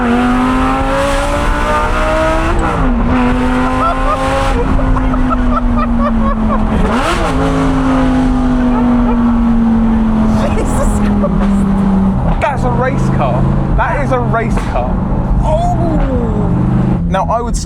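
A loud car engine revs hard and races past at high speed, its pitch climbing and falling through repeated gear changes, then sharper bursts of revving and pops near the end.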